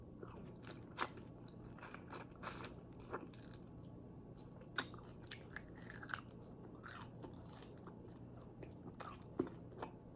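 Close, quiet chewing and biting of cooked chicken wings, with irregular crunchy bites and wet mastication spread throughout, no talking.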